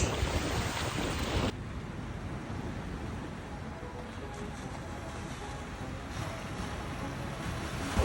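Ocean surf rolling onto a Gulf of Mexico beach in Florida during unusually high waves, a steady wash of breaking water with wind buffeting the microphone, louder at the very start and then a continuous roar throughout.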